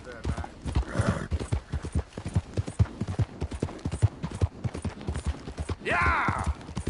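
Horse hooves clip-clopping in Red Dead Redemption 2, a steady rhythmic trot of close, clear hoofbeats with a whinny partway through, under intermittent talking.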